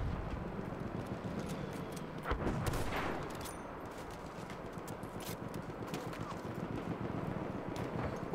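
Gunfire in a Battlefield 1 battle with a tank shooting, a dense stretch of rapid shots and rumbling blasts at moderate distance, continuous throughout.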